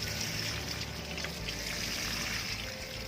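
Gentle steady trickle and patter of water sprinkled from a watering can rose over soil in a newly repotted plant pot, quiet and close with no talking.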